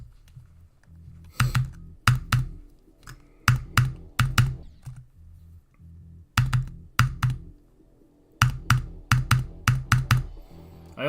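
Computer keyboard keys clack in quick bursts and clusters while a Geometry Dash level is played, loud and close with short pauses between runs of presses and no talking.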